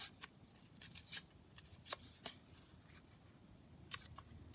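Paper torn by hand for DIY ephemera clusters, heard as a few short, faint, crisp rips and rustles spaced apart in a quiet room.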